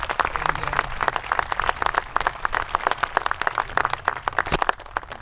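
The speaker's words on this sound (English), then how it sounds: "So please, at least give them a round of applause and recognition." Applause for honor wreath presenters at the Vietnam Veterans Memorial Wall, a dense, steady crowd clapping that runs loud throughout with one sharp louder clap near the end.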